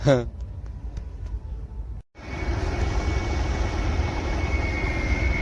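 A steady broadband engine roar of an airplane flying overhead drones on after a brief pause, with a faint high whine running through it; a voice talks at the start.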